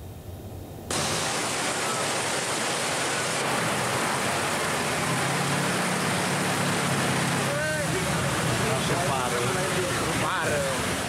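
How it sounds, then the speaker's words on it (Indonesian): The overflowing Cibaligo river floods a road in Cimahi, West Java: a loud, steady roar of rushing water fills the whole clip after a brief quieter start, with a few faint higher sounds over it. "Beginilah kondisi aliran sungai Cibaligo yang meluap dan menutupi ruas jalan Mahar Marta Negara di kota Cimahi, Jawa Barat."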